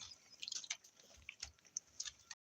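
A puppy chews and bites a mouthful of buttered food, giving a quick run of faint, close, wet crunching and smacking bursts with brief pauses between them and no talk.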